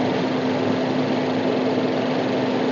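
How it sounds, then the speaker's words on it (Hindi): Turbocharged Boosterjet petrol engine of a Maruti Suzuki Baleno RS with a possible noise fault, running steadily at idle with a constant whirring drone and a steady tonal hum, close and unbroken with no talk. "बलेनो आरएस में अगर इस टाइप के अगर नॉइज़ आ रही हो"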